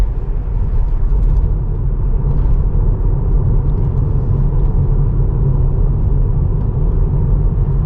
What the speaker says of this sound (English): It's always stopping very sudden and then accelerates again